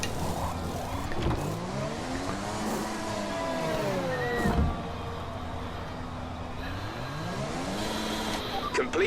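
Race cars in the F1 2020 video game during a pit stop: engines sweep up and down in pitch with tire squeals, steady and fairly loud, while a voice talks over it.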